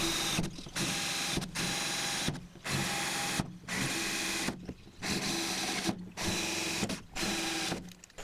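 A handheld drill with a regular bit boring pilot holes into spot welds on a Land Cruiser 79 steel tub, several steady whirring bursts broken by short pauses, close and loud.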